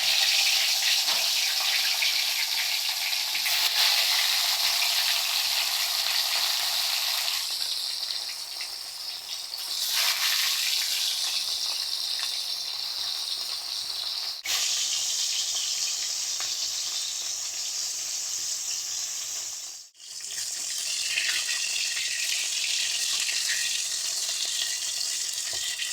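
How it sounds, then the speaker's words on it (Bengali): Rohu fish pieces fry in hot oil in a wok, a loud, steady sizzle with crackling spatter that runs throughout, dipping briefly near the end before resuming. "এবার আমি মাছগুলো এক এক করে ভেজে নেব।"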